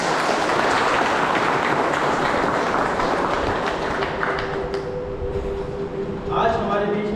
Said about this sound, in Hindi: एक बार सबों के लिए तालियां बजाएंगे।